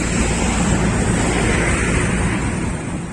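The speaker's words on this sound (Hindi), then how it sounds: "गंगा नदी का जो जल है 4 सेंटीमीटर प्रति घंटे की रफ्तार से ये गंगा नदी बढ़ रही है" The flooded Ganges at Posta Ghat in Ghazipur rushes past in a loud, steady wash of flowing water, mixed with rumbling wind buffeting the microphone.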